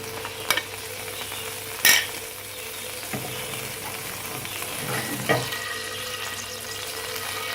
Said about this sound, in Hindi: जीरे को हल्का सा हमने भूनना है।